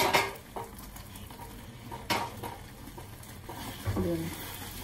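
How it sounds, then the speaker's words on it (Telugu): Chicken pieces are tipped into a pan and stirred for a chicken pickle, making a few clattering scrapes and knocks of a utensil against the pan over a low background hum, with brief faint sizzling. "ఈ చికెన్ ముక్కలు వేసేస్తున్నానండి"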